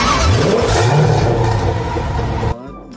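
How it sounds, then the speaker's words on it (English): A loud revving engine effect for a toy dump truck, its roar climbing and falling in pitch for a few seconds before stopping abruptly, leaving a quieter tail. "A dump truck."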